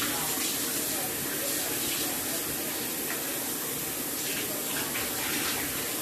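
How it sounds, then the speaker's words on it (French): Tap water runs steadily over something being rinsed in a sink, a close, even rushing spray lasting the whole stretch without a break. "Je vais juste rincer ça."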